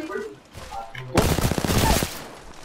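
A loud burst of rapid automatic gunfire erupts in a video game after a moment of quieter talk and lasts about a second before fading, with speech heard around it.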